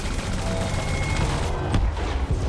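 Continuous gunfire during a fight with Guardian sentinels in the space game Elite Dangerous, a dense, loud barrage of shots and blasts filling the whole short stretch.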